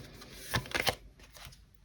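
A brief flurry of tarot cards being shuffled and handled close by, a few quick papery riffles, then quiet.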